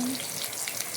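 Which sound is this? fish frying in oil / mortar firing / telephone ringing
fish frying in oil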